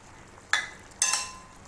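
Oil goes into a karahi of nearly cooked mutton for a Balochi mutton karahi, bringing two sudden bursts of sizzling a half second apart, each hissing loudly and then easing down, close and without talk.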